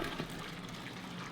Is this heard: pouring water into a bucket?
yes